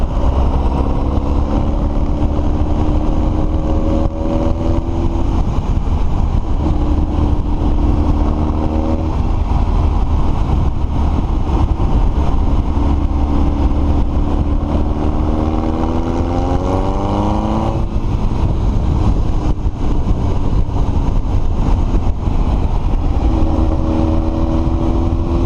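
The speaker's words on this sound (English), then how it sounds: "I'm going to let it sit here and get warmed up for a few minutes" Hot rod Chevy engine idling steadily as it warms up, a loud continuous low rumble with a slightly wavering pitch throughout, no talking.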